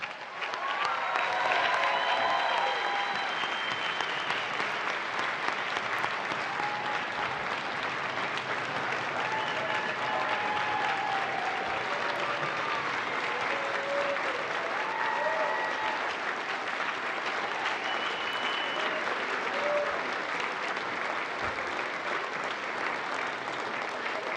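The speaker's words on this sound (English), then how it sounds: "Let's give them a big round of applause." Sustained applause from a large ceremony audience honoring graduating astronaut candidates, dense and steady for the full stretch with scattered whistles and cheers rising above the clapping.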